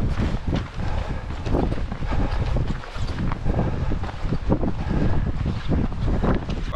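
Gusty wind buffets the microphone on a mountain in the north during a rain storm, loud irregular low rumbling bursts rising and falling throughout with no clear talk.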